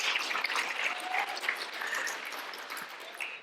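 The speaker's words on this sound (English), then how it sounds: "Let me hear some applause here for that goal." An audience claps steadily, a dense patter of many hands at moderate volume, tapering slightly toward the end.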